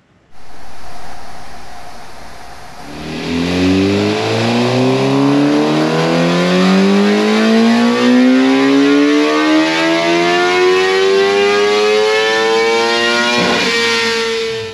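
A 2022 Suzuki GSX-R750 with a Yoshimura R77 full exhaust runs on a dyno: the engine idles briefly, then makes one long, loud, steadily rising wide-open pull to high revs and cuts off at the end.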